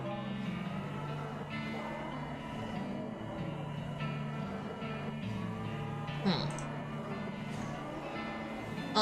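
Cow in the western game West of Loathing, a sustained low mooing drone with steady tones over game background, ending in a brief rising sound.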